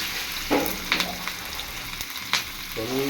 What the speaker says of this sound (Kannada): ಸ್ವಲ್ಪ ಜೀರಿಗೆ ಆದಮೇಲೆ ಬೆಳ್ಳುಳ್ಳಿ ಹಾಕೊಳ್ಬೇಕು ಸ್ವಲ್ಪ ಬೆಳ್ಳುಳ್ಳಿ ಆಮೇಲೆ ಸ್ವಲ್ಪ ಹಸಿಮೆಣಸಿನ್ಕಾಯಿ